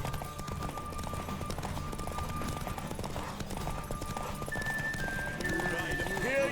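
Hoofbeats of Geralt's horse Roach in The Witcher 3 video game, racing in a derby; a steady run of clopping steps continues throughout, mixed with game ambience and voices.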